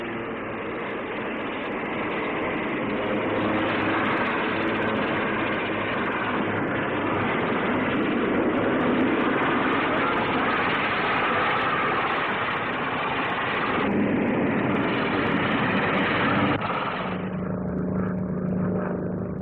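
Fairey Rotodyne compound gyroplane flying past at the 1959 Farnborough air display, a loud sustained engine and rotor roar that holds steady, then shifts and fades toward the end, with no voices.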